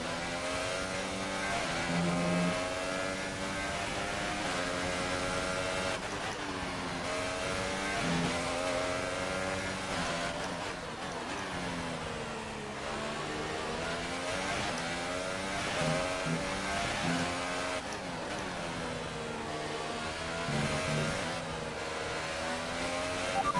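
A Formula 1 race car engine in the video game F1 2018 wails continuously at high revs, its pitch rising and falling through gear changes as the car laps, loud and steady.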